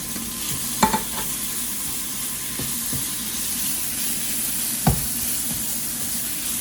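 Minced garlic fries in a pan for white sauce spaghetti, a constant sizzle and hiss with a few sharp knocks of the stirring utensil against the pan.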